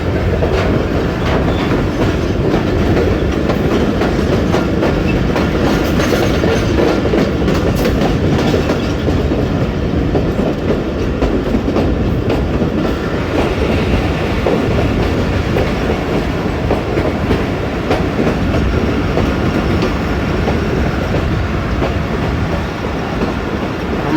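A passenger train on the ML-2 line in Pakistan, running on rails with a continuous rumble and rhythmic clickety-clack of wheels, heard from on board without speech.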